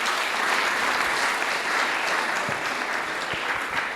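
A church congregation keeps up a steady, dense round of applause, many hands clapping together at a moderate distance, with a few sharper claps standing out.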